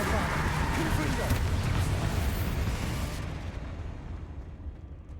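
Spell explosions from Bombardo and Confringo in Hogwarts Legacy make a loud, dense blast with a rumbling roar that fades over the last two seconds.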